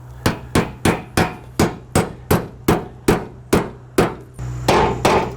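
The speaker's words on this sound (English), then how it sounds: "So I just lay that over the pressure treated lumber and just throw a nail." About a dozen sharp, evenly paced hammer strikes drive 1¼ inch roofing nails through flashing into 1.5 inch thick pressure treated lumber under a deck, each blow loud and close with a short ringing decay.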